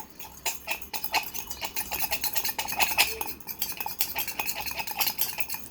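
A spoon stirs protein powder mix in a cup with quick, rhythmic clinks and scrapes, close and steady throughout.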